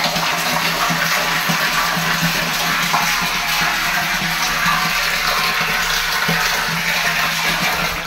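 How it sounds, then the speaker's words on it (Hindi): Water from a tap pours steadily into a freshly cleaned household water tank, a continuous broadband gushing and splashing that stays loud and even throughout with no voices. "देखो पानी हमने चालू कर दिया है"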